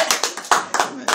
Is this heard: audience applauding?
yes